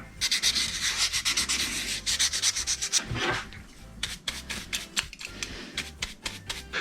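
Fine P800 grit sandpaper rubbed by hand in a home shed workshop, a fast rhythmic scratchy rasping of quick strokes, close and steady, easing into sparser, separate strokes toward the end, with no talk.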